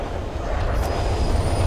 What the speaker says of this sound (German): Über uns scheint eine U-Bahn zu fahren.